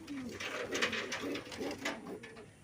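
Pigeons in a loft, brown and black breeding pairs with semi-adult birds, coo softly in repeated throaty rolling calls nearby, with some quiet talk in the background.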